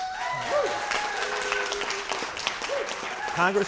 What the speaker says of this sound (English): You can applaud now if you'd like.